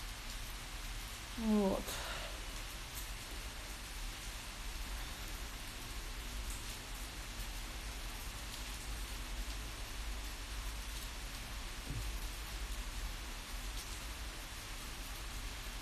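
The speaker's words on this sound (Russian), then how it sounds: "Боже мой, куда же пойти-то в такой дождь?" Heavy rain pouring down outdoors, a continuous, even hiss of drops that stays steady and fairly soft the whole time, with a brief spoken word near the start.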